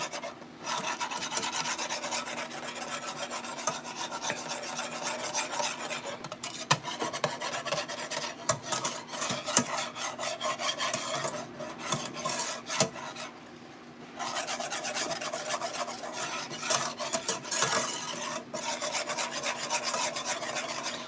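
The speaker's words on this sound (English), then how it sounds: "Just keep whisking. It'll come together." A whisk scrapes steadily around a pan of creamy sauce for baked mac and cheese, making a continuous close, rasping swish with a brief pause partway through. No one speaks.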